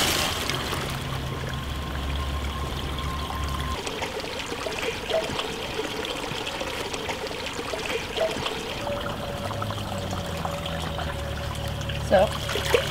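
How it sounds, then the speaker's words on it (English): Water poured from a drainage pipe into the top of a roll-top filter pack holding about 20 liters, a steady trickling pour running under background hum and faint talk. "Use the top to pour water in."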